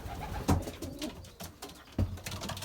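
Belgian racing pigeons coo softly inside a loft, two low throaty bursts a moment apart against faint background rustle, no voices.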